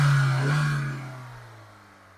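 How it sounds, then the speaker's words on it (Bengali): A Nissan Sunny car engine is revved with the accelerator while idling, a close, smooth drone that swells briefly and then settles and fades into a steady idle hum. "একটু এক্সেলেটর দিয়ে দেখে দিই।"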